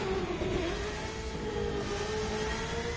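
A car engine revs steadily in The Crew 2 video game during a race through San Francisco, a sustained droning whine that holds its pitch as the car runs in sixth gear.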